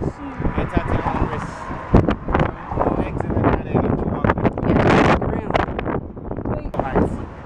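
Strong wind gusts buffet the microphone on the bridge at Hoover Dam, a rough, rumbling roar that rises and falls while people talk over it outdoors.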